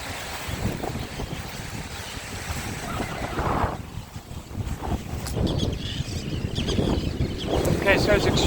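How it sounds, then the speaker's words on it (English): Strong wind buffets the microphone in steady rushing gusts on Cape Cod's outer beaches, with a low roar like surf in the background and no one speaking. "it's extremely windy"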